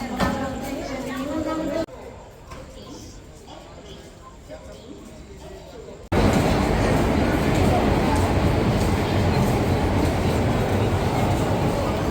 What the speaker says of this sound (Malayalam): അങ്ങനെ നമ്മുടെ ട്രെയിൻ വന്നു.